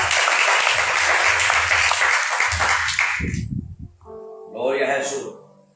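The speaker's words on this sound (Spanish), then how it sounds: "¿Cuánto le pueden dar palmas en esta cosa?" A church congregation claps hands together in a dense burst of rhythmic applause for about three seconds, then it fades as voices speak and call out.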